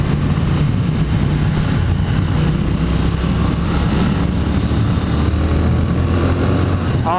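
A 2018 Triumph Thruxton motorcycle under way, with a steady, loud engine drone and a broad rush of wind noise that run continuously throughout, and no voices.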